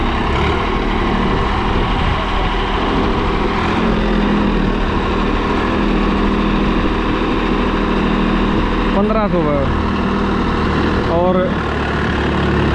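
A Swaraj 744 FE tractor engine runs at a steady, loud idle throughout, with a continuous low rumble and voices talking over it.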